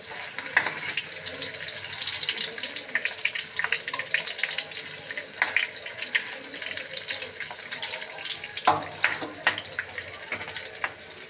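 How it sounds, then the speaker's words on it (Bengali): Paneer fries in hot oil in a pan with a faint, steady sizzle and scattered crackles, quiet and continuous throughout. "এদিকে না আমার পনিরটা ভাজা হয়ে গেছে, দেখেছ? তুলে নিচ্ছি।"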